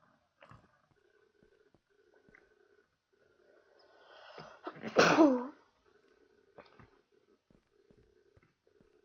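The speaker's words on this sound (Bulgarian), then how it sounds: "Кихнах." One short, sharp sneeze bursts close to the microphone in an otherwise quiet room, with faint soft game sound effects ticking in the background before and after.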